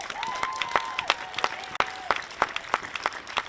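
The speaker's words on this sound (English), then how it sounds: "Give yourselves a hand clap." At a Minneapolis justice rally for George Floyd, a crowd claps in scattered, sharp hand claps that ring out unevenly over a thin sustained whistle-like tone.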